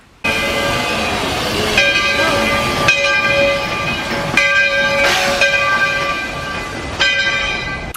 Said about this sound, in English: the train was going through a refurb, so we hadn't been on it in quite a while, so we decided to take it just over to the Frontierland stop